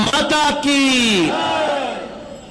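Rally crowd in West Bengal roaring back a "Bharat Mata ki" response, a loud, sustained massed shout of many voices that swells and then slowly fades.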